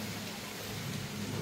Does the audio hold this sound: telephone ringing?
no